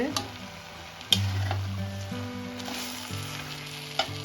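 Soft boiled mixed vegetables for a vegetarian curry stirred in a pan, giving a low sizzle with a few sharp spatula clinks and scrapes, over faint tonal background music.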